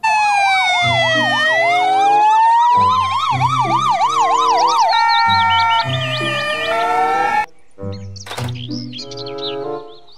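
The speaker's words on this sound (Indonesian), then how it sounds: "Mobil ambulan." A toy ambulance plays an electronic siren that sweeps and warbles through several patterns over a pulsing beat. It cuts off abruptly near the end, and a few chirpy electronic tones follow.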